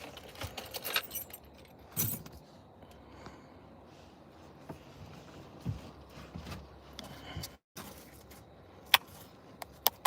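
A set of keys jangles and clinks in a few short metallic bursts, scattered over a quiet indoor background with some soft handling noises in between.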